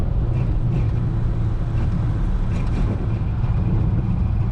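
Engine of a 1934 Ford Coupe with a new engine pulling uphill, a loud, rough, steady low rumble with no break.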